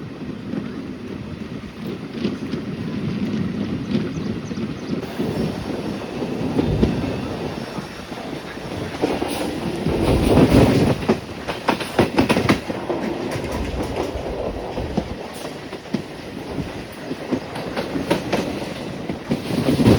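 A passenger train departing a halt near Bengaluru on the Mysuru line rumbles along steadily, wheels clacking rhythmically over the rails with occasional louder surges and a constant rolling drone.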